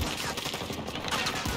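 Rapid gunfire from the video game Battlefield 2042, dense bursts of shots crackling continuously and fairly loud across a short stretch.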